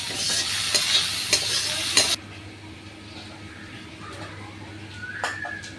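Vegetable bhaji is stir-fried in a pan in a village kitchen. Close sizzling and scraping strokes run for about two seconds, then the sound drops to a quiet background with a few faint clinks.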